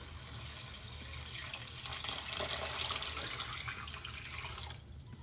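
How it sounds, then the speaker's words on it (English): Shrimp stock pours into a pot for étouffée, a soft continuous splashing and gurgling of liquid that swells in the middle and tapers off at the end, faint and with no speech. "Now we're going to add our shrimp stock."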